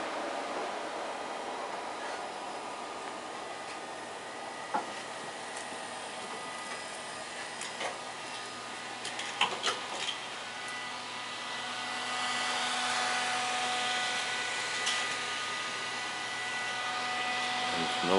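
A G&J Raptor 85 thermal plate processor runs with a steady broadband mechanical whir and hiss, punctuated by faint clicks and small clunks, growing slightly louder in the second half.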